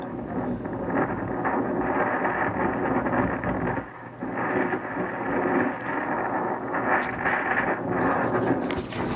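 Strong, steady wind roars against the microphone with a rumbling low end, surging and dipping briefly before picking up again in a huge gust.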